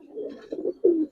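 Giribaz coloring pigeons, a pet pair held by hand, coo in three short, throaty phrases, close and clear, with the last one the loudest.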